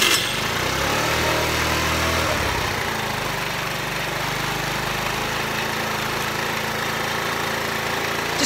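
A scooter engine with a newly fitted ignition coil catches and runs, a loud steady buzzing idle that settles after the first few seconds, close up without any voices.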